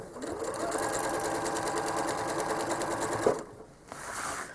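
A home sewing machine quilting a curved line of stitches runs steadily and close for several seconds with a fast, even needle rhythm, then pauses briefly before starting again.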